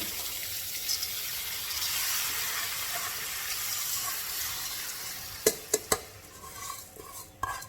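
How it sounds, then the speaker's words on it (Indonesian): Rice soaked for half an hour is stir-fried in a pan for Arabic maqlubah, making a steady broad sizzle and stirring hiss, with a few sharp utensil clinks against the pan near the end. "Kita tumis beras yang tadi kita udah rendam setengah jam ya."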